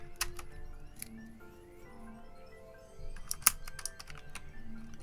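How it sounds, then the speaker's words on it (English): Keycaps are pried off a computer keyboard during cleaning, giving scattered sharp plastic clicks and taps. Quiet music plays in the background, and there is no talking. "taking apart my keyboard, or removing my keycaps to clean my keyboard"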